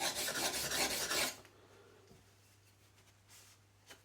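A chisel is rubbed across a sharpening surface in a short rasping burst of close strokes, then stops, leaving quiet room tone with a couple of faint scrapes.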